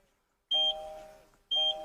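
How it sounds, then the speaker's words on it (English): The anti-theft keypad on a Kia Sportage gives two clear electronic beeps, close and fairly loud, each with a short sharp onset and a fading tail, spaced about a second apart once the PIN is accepted. "once it accepts the correct code, and it will beep twice"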